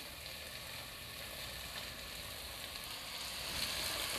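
Washed dal and rice sautéing in oil for khichdi hiss faintly and evenly, a quiet, continuous sizzle with no distinct pops or voices.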